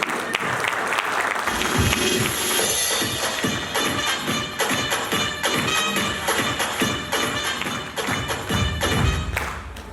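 A crowd at a business gathering claps loudly and continuously, with thumps and shuffling mixed into the sustained applause and little talk.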